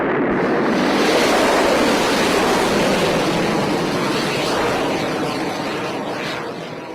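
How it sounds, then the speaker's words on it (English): Rocket liftoff right after the countdown and ignition: a loud, continuous, rushing roar that holds steady for several seconds, then eases slightly and fades toward the end, with no talking. "Liftoff will start in T-minus 10 seconds"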